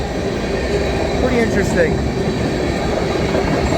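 A mixed freight train hauled by two Canadian National locomotives rolls past in western Pennsylvania, a loud, steady rumble with clattering wheels and faint squeals throughout, while a person speaks briefly over it.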